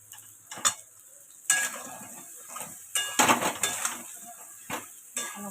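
Fish roe for kofta stir-fried in a pan with potatoes over medium heat, irregular scraping and clanking of a utensil against the pan over a soft sizzle, the strokes coming in uneven bursts.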